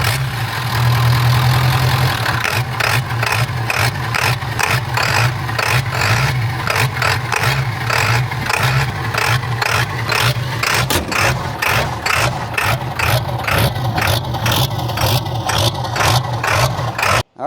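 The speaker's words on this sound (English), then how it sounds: "And it's got the low idle, which I'll show you that." A 7.3L Powerstroke diesel swapped into a big Ford limousine idles low and steady under the open hood, its heavy rhythmic clatter pulsing evenly and loud for the whole stretch.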